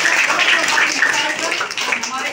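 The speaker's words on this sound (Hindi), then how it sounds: "हम लोग तालियों से अभिनंदन भी करेंगे हमारे ब्लॉक प्रेसिडेंट सर को" An audience applauds steadily to welcome the block president at a Student Day celebration at Diana Tea Estate, a dense, continuous wash of clapping with no pause.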